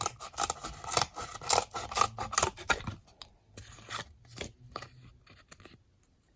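Scissors snipping through cardboard strips for a homemade cardboard toy gun, a run of close, crisp rasping cuts that come denser at first, then thin into sparser snips and rustles.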